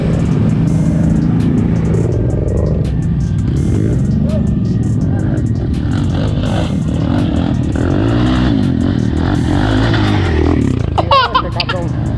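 An off-road motorcycle or quad engine drones and revs loudly during an off-road ride, its low rumble continuous under excited voices talking and laughing nearby.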